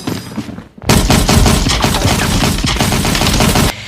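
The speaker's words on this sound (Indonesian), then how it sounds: "si adik langsung lari tapi akhirnya tewas terkena tembakan beruntun oleh salah satu anak buah Stan" A long burst of rapid automatic gunfire erupts suddenly after a brief quieter moment and hammers on loudly for about three seconds in a shootout from the film The Professional.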